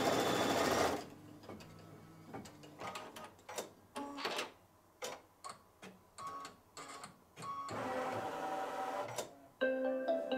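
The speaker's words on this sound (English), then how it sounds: "stitch Hattie in the same blue as the eyes" Embroidery sewing machine stitching a quilt design, with loud sustained whirring runs broken by many rapid ticking stitch bursts and short pauses, close up and without speech.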